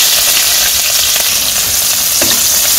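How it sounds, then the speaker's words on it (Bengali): Onions and green chilies fry in hot oil tempered with nigella seeds in a kadai, giving a loud, unbroken sizzle and crackle close up, with no voices. "তো আমি তো এখন পেঁয়াজ ভাজি করবো"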